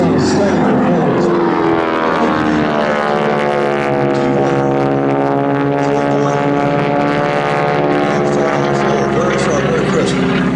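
A T-6 propeller aircraft flies an aerobatic display at the 2011 Culpeper Air Fest, its engine a steady, loud droning hum with an announcer talking over it throughout.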